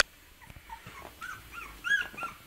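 A young puppy left alone without its littermates whines in short, faint, high whimpers close by, with brief pauses between the cries.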